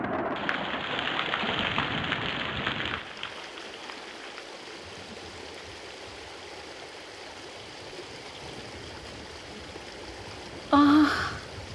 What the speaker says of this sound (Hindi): ओह, बाहर तो बारिश हो रही है।